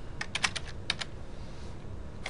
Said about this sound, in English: Let's type out our formula.